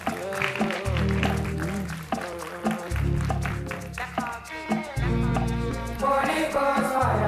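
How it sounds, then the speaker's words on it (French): A seated audience at a French awards event applauds Lionel, a steady wash of clapping that runs the whole stretch with music playing underneath. "Je demande d'applaudir Lionel."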